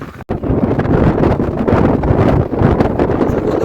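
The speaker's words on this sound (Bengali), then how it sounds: "হাওয়া হিমেল বাতাস খুবই ভালো লাগতেছে" Loud gusting wind buffets the microphone in a constant roar, with a brief dropout near the start: a strong sea breeze while driving along a beach in the Maldives.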